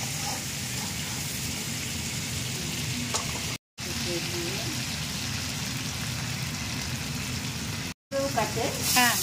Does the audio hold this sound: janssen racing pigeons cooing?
no